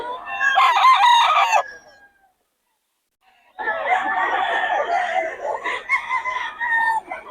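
A yellow-legged hatch gamecock rooster crows loudly up close, goes quiet for about two seconds, then breaks into a longer run of clucking and crowing. A voice may faintly murmur in the background.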